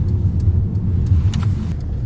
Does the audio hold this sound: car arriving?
yes